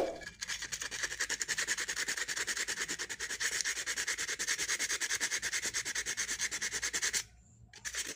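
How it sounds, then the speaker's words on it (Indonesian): Sandpaper rubs back and forth on a dried surface in fast, even strokes, loud and close. The scratching runs steadily and pauses briefly near the end. "Baru kita amplas, guys."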